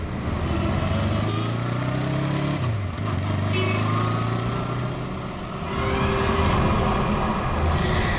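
A motorcycle passing by on a road near Khandala, its engine drone steady and loud, with a shifting pitch as it goes past and fades.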